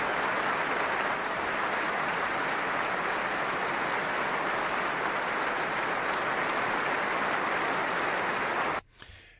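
A stadium crowd at Murrayfield gives a minute of sustained applause before a Scotland versus Portugal rugby international, a broad, steady roar of clapping that cuts off abruptly near the end.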